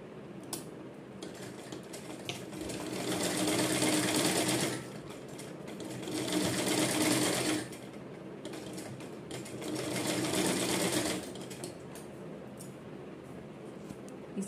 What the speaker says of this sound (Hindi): इसी तरह से सारे में सिलाई मार देंगे